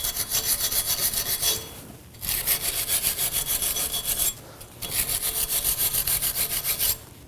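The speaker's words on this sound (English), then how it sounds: "you may want to use a metal brush and get in between the studs" A metal brush scrubs rust from the studs of a rear brake hub on a 2014-2020 Acura MDX, in two long bursts of rapid back-and-forth rasping strokes separated by short pauses, close and loud with no talking.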